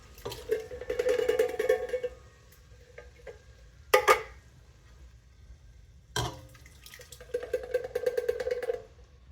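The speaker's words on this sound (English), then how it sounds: "Okay, you're just gonna add those to your pot." Tomatoes tipped into a chili pot with beef, beans and smoked sausage, giving wet clattering bursts, a sharp knock near the middle and another thud, then more sloshing, close and moderately loud with no talk.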